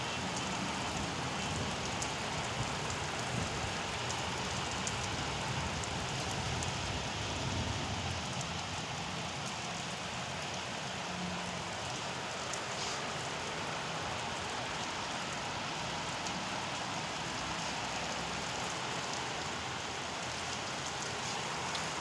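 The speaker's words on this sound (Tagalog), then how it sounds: "So ang lakas ng ulan mga palangga, no?" Heavy rain pours steadily at a working site in Hail, Saudi Arabia, a dense, constant broadband hiss that stays even for the whole stretch, with no voices over it.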